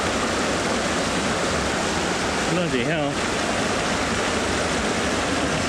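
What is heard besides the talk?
rushing river water during a wading river crossing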